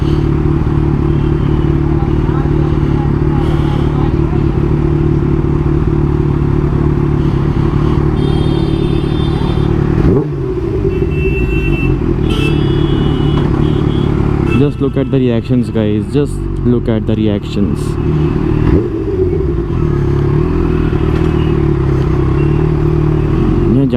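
A Kawasaki Ninja H2 superbike idles in traffic with a loud, steady engine drone and occasional light revs, while someone talks continuously over it amid street noise.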